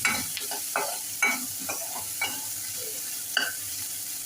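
A spoon stirs and scrapes chopped tomato, coriander and curry leaves around a pan for masala dal in several uneven strokes, with a soft sizzle of frying underneath.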